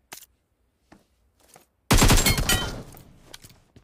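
AKM rifle fire in PUBG Mobile: a few faint distant pops, then a loud close burst of rapid automatic shots that trails off into a decaying rumble, with no talk.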